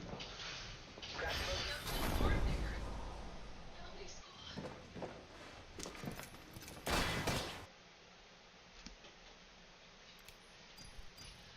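Gunfire in a shooter video game: a burst of rapid shots near the start with a louder volley around the seven-second mark, then quieter game ambience.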